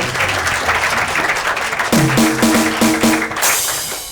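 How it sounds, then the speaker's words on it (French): Audience applause greeting guests on a French-language talk show, a dense, loud wash of clapping with a short burst of music tones partway through. "Applaudissez pour les invités, s'il vous plaît."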